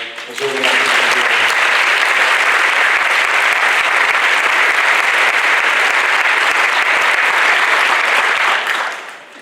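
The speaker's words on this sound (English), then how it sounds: "really deserve the biggest round of applause" A large audience at a Butte Fire briefing in California bursts into loud, sustained applause for local firefighters, police, EMS and public works crews, a dense roar of clapping that fades out near the end after a brief voice at the start.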